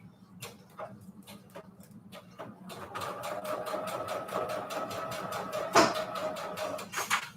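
Sewing machine stitching junk journal pages with a 3.5 stitch length, starting with a few slow, spaced clicks before settling into a rapid, even run of stitching taps, close and moderately loud.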